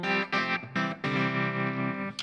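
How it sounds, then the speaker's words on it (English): Guitar played through a modeler's tremolo effect, loud and alone: sustained distorted chords pulse on and off in a steady choppy rhythm, with a brief pick scrape at the end. "It has the tremolo."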